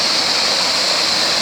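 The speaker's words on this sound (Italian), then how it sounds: "un canale con questa uscita così prorompente" Water from a mill channel outlet gushes out in a loud, forceful, continuous roar, close up and steady.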